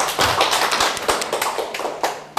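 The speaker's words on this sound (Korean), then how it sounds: "박수 한번 쳐주시고." Lecture audience applause, a short burst of many hands clapping in a quick irregular patter, fairly close and moderately loud, fading out after a couple of seconds.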